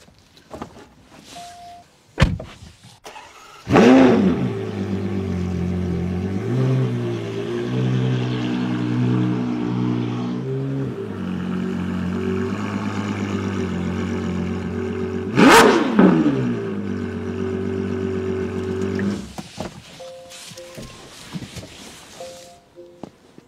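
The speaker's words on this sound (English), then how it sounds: "You know that there's a V12 inside and you want to hear that V12" Ferrari Purosangue V12 engine fitted with a Novitec exhaust, idling with a deep, smooth drone, then revving sharply twice with loud rising blips that fall back to a steady throb before settling.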